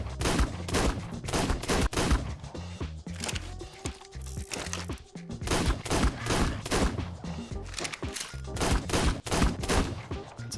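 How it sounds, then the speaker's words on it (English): Rapid sniper rifle shots fired at pterodons in the video game Ark Survival Ascended: sharp, loud cracks repeating in dense bursts with metallic reload and bolt clicks between, no voices. "I started sniping some of the pterodons in their base"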